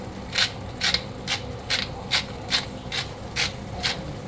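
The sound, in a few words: cranking a pepper mill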